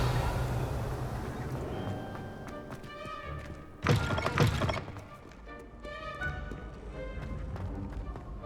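In Hogwarts Legacy, the Revelio spell sounds as a short, bright, shimmering whoosh that swells over the steady game ambience and soft footstep thuds, then fades within about a second.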